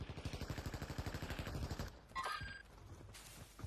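Rapid bursts of video game gunfire crackle in a fast, evenly spaced automatic stream for about two seconds, then give way to a few scattered distant shots and brief metallic game effects.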